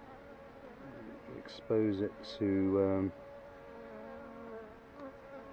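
Bees buzzing near an overripe banana, with several close, loud droning passes lasting about a second each, while someone speaks quietly around them.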